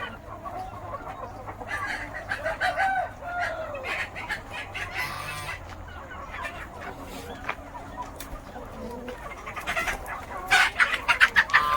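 A flock of chickens, some hopping straight up into a shed, clucks and murmurs continuously at moderate distance, with scattered soft thumps and flutters and busier calls toward the end.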